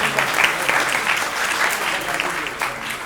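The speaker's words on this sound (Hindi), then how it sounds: "एक बार जोरदार तालियां इन कलाकारों के लिए बजा दीजिए।" Audience applauding the actors after the stage play Rangbaaz Rasia, steady and fairly loud clapping from a crowd, continuous throughout with slight swells.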